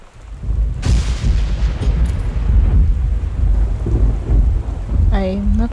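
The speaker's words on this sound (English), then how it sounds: "I'm not really a fan of storms." Thunderstorm in the video game Gone Home: heavy rain hisses constantly while a loud thunder crack breaks in early and rolls on in deep rumbles, with a brief high tone near the end.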